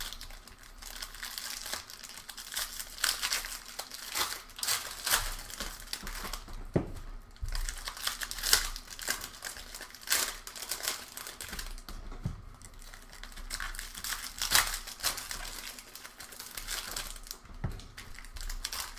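Foil packs of 2017 Bowman Draft baseball cards are torn open and crinkled continuously, close and busy, with dense crackling rips and rustling foil and no voices.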